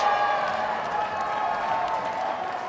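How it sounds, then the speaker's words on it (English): A hometown crowd at a women's volleyball quarterfinal in Houston cheers and claps after a point, a steady roar of applause heard from a distance, with a commentator talking faintly over it. "this hometown crowd going kind of crazy after that point"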